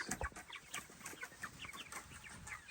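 Young chickens out on grass in a chicken tractor cluck busily, a steady stream of overlapping soft clucks and chirps from several birds close by, with no voices.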